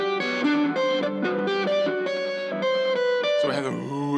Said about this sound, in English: Let me just add some distortion.